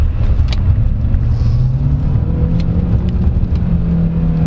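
A 2024 Jetour Dashing compact crossover accelerating in sport mode, heard from inside as a loud low engine drone that rises steadily in pitch, with a few faint clicks over it.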